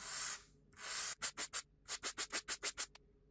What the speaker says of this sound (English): I'm using two kind of sandpapers, one to remove the top layer, the logo itself, and another one for polishing it